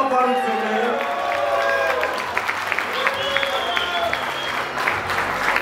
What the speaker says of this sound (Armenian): Եկեք առանձնահատուկ բարձր և ջերմորեն ծափարենք Վարդան և Ալիսա գերանյալների բարձր ծափարությունը